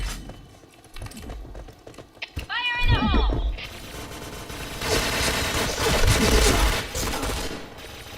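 PointBlank first-person shooter gunfire in bursts of rapid shots mixed with game effects and a rising tone, over keyboard clatter, loud in places and fading between volleys.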